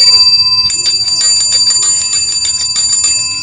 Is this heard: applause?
no